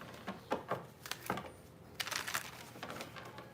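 Quiet, soft papery riffles and light clicks of tarot cards being shuffled in short bursts, close by, with a denser flurry near the end.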